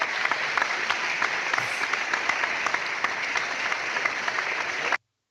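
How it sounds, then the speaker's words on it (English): Steady applause sound on a comic book podcast, dense even clapping that holds at a constant level then cuts off abruptly. "give a round of applause"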